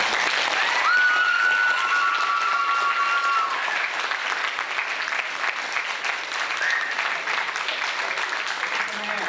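Steady applause from an audience cheering a teacher named Kathleen at a school event, with a couple of brief whistles early on over the dense, sustained clapping.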